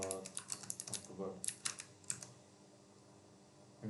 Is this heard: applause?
no